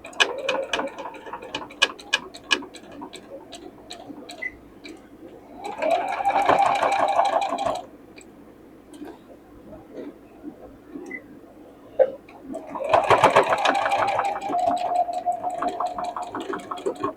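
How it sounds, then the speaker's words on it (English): A sewing machine stitches a circle bag in two steady bursts of fast, close mechanical chatter, separated by quieter ticking and handling clicks. "we are going to stitch this."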